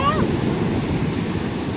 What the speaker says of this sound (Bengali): এখানে মেনলি এই ঢেউয়ের সময় ধাক্কা দিচ্ছে।